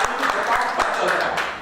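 Audience applause at a Christian testimony gathering in Manila: dense, steady clapping filling under two seconds, with a voice speaking over it.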